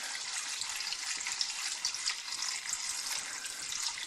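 White vinegar pours steadily over auger bits in a bucket to soak them, a continuous close splashing and trickling of liquid with no talking.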